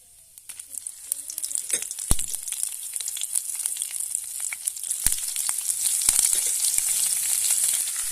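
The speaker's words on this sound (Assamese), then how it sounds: "ইয়াতে মই কেঁচা জলকীয়াকেইটা দি দিম এতিয়া।" Raw green chillies frying in a pan of oil for an olive pickle recipe: a loud, continuous crackling sizzle close by, with frequent sharp pops spattering throughout.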